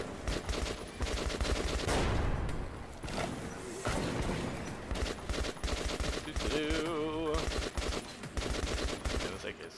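AK rifle fire in a video game, rapid loud bursts and automatic volleys nearly throughout, with a short mechanical warble partway through and brief gaps between strings of shots.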